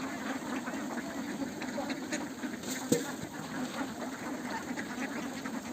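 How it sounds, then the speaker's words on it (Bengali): Farm ducks quack continuously while being fed, a dense chorus of overlapping calls close by with a low background hum and one sharper knock partway through. "দেখেন হাঁসকে কেমনি খাবার দিতে হয়"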